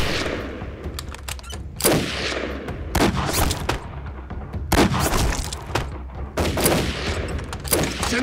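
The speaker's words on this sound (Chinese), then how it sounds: "开枪！" Rifle and machine-gun fire in a battle scene from an anti-Japanese war drama, with repeated sharp volleys and rapid bursts in an uneven rhythm over a constant low rumble.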